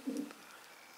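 A pigeon from a long-distance breeding line gives one short, low, soft coo near at hand, followed by quiet background noise.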